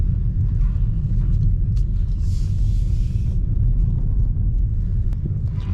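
A warmed-up BMW E92 335is engine idles steadily, giving a constant deep rumble that holds at an even level throughout with no talking.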